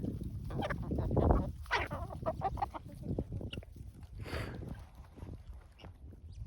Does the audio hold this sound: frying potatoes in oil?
no